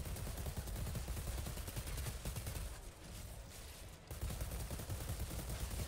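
Assault rifle gunfire in the video game Outriders, dense rapid automatic bursts filling almost the whole stretch with only a brief lull, loud and close, with no talking.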